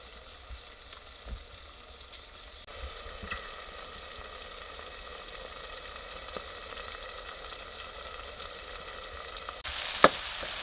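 Vegetables frying in a pan for pulao make a low, even sizzle that grows slightly over time, ending with a brief brighter burst and a small clatter.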